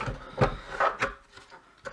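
A plastic top cover on a generator control panel is unclipped and lifted off, making a few close clicks, snaps and light plastic knocks spread over two seconds, without speech.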